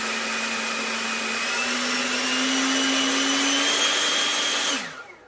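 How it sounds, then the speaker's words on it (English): An electric ducted fan on an MD600N RC helicopter runs at full power, drawing over 100 amps in a steady, loud, high-pitched whine and rush of air whose pitch climbs slowly, then spools down abruptly near the end. "that EDF is sucking so much air, it's ridiculous"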